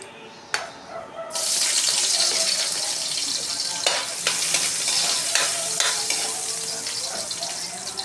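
Ginger drops into hot cooking oil and sizzles loudly and steadily, with stirring clatter in the pan, after a brief quiet start and a sharp clink.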